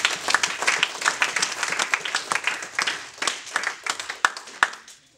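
A church congregation applauding during an Easter Sunday service, a steady mass of many hands clapping at close range with scattered louder claps standing out, voices faintly mixed in.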